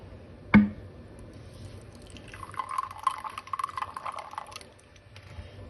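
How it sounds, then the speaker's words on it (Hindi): Liquid falsa sharbat pours into bottles with a steady splashing trickle that starts after a sharp knock and continues for several seconds at moderate loudness. "थोड़ा सा शरबत डाल देते हैं"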